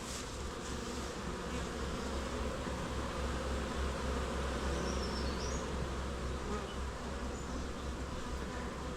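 Honeybees bearding on a hot day, clustered outside the hive, make a dense, continuous buzzing drone that stays steady and close for the whole stretch, with no voices.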